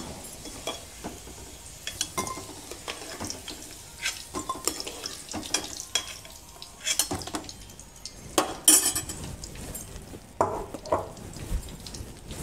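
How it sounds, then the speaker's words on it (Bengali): Fried potatoes being lifted from a pan with a metal utensil in a home kitchen, a series of sharp scrapes and clinks against the pan over a faint sizzle, close and irregular. "আমার আলুগুলো ভাজা হয়ে গেছে, এবার আমি আলুগুলো নামিয়ে নেব।"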